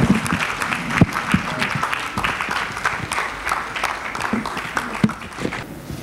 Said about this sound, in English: With a round of applause, shall we invite Dr. Mrs. Irene Stella Ajinimbuaten.